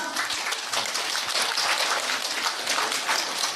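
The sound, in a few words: audience clapping hands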